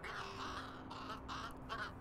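A crow caws in the video game Little Kitty Big City, a run of four or five rough calls in a loose rhythm, close and clear over a steady game background hum.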